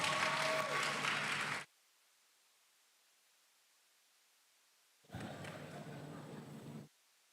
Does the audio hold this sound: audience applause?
yes